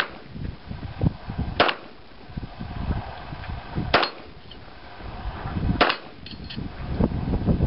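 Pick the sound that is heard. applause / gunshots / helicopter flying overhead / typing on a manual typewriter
gunshots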